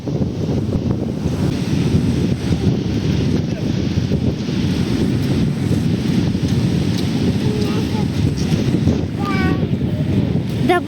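Sea waves and gusty wind at a seaside promenade in a small Italian coastal town, a steady, loud broadband roar with wind buffeting the microphone throughout and a brief voice near the end.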